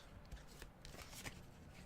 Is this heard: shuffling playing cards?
yes